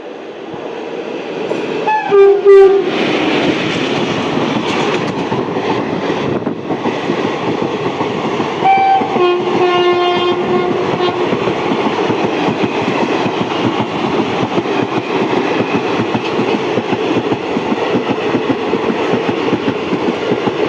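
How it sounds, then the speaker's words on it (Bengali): The Sealdah–New Alipurduar Teesta Torsa Express, hauled by a Howrah-shed WP4 locomotive, sounds a loud horn blast as it arrives, then roars past close by with a sustained rumble and rhythmic clatter of coaches, a second short horn mid-pass. "এখন আসছে শিয়ালদা নিউ আলিপুরদুয়ার তিস্তা তৌসা এক্সপ্রেস"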